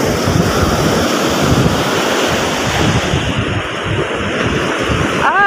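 Stormy sea waves crashing and splashing water into a small wooden boat, a loud continuous roar of surf with heavy wind buffeting the microphone and a rush of water near the end, with no talk.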